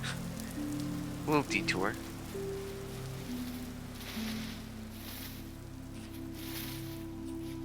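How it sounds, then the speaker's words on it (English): Light drizzle at the edge of a rain cloud in Vintage Story: a faint, steady patter of fine rain. A voice speaks briefly near the start. "now that we're over here, on the edge of the cloud, there's a slight drizzle"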